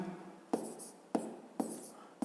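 A number being handwritten during a maths exercise, four quiet pen strokes at regular intervals, each a short scratch that fades, recorded close in a quiet room.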